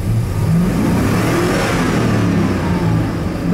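A 2000 Ford 6.0 diesel engine revving, a loud sustained mid-pitched roar that climbs and holds steady for a few seconds, heard close with no talking.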